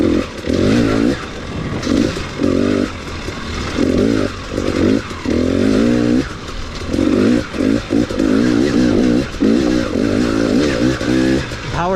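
A 2018 KTM 250 XC-W TPI dirt bike engine being ridden, its two-stroke note rising and falling in repeated bursts of throttle, loud and close throughout with brief lulls between pulls.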